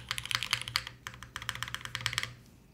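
Crisp, rapid keystrokes on a Nix Lilith mechanical keyboard fitted with Nixie switches, with close, clacky taps in quick bursts and a brief pause midway before the typing resumes.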